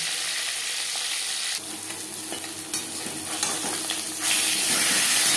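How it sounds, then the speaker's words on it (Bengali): Pieces of catla fish and a fish head fry in hot oil, giving a loud, dense sizzle that crackles steadily, with occasional brief knocks from a utensil and the hiss swelling near the end. "মাছ ও মাছের মাথা একটা সাইড ভাজা হয়ে গেলে অপর সাইডটা উল্টে দেব।"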